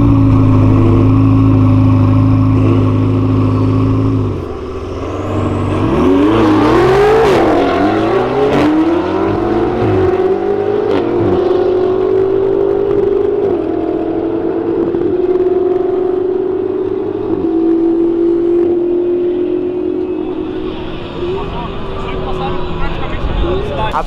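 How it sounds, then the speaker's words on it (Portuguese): A Ferrari 488 roars through hard acceleration in a street race, its engine note climbing and sweeping through gear changes, loud and close throughout with a brief dip partway before the sustained high-revving drone continues. "primeira Ferrari que eu já vejo correr aqui"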